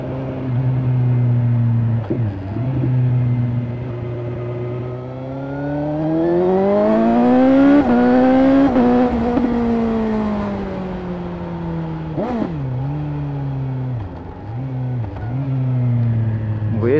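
A car engine drones loudly while driving, rising in pitch to a peak around 6000 rpm before easing off, with brief dips and shifts in tone; a voice talks over it at times.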